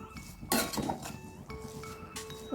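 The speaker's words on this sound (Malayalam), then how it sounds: "ഇനി നമുക്കിതൊന്ന് ഇളക്കിയെടുത്തിട്ടൊന്ന് തിളപ്പിച്ചെടുക്കാം" A spoon clinks against a pot while jackfruit seed and spinach curry is stirred, with a few sharp metallic knocks and scrapes close by. No one speaks.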